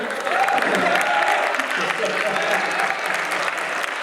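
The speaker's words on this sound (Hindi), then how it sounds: "जिनकी शादी नहीं हुई वो तो ताली बजाएं," Steady, dense applause from a large crowd at an Urdu poetry mushaira in Multan, a continuous wash of clapping close and loud for the whole stretch, with faint voices mixed in beneath.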